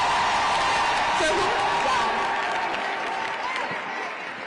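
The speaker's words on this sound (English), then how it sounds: "one last round of applause for the speakers today, y'all" Crowd at an abortion-rights demonstration marking the Roe v. Wade anniversary claps and cheers, a steady loud wash of applause with scattered whoops and yells that eases slightly toward the end.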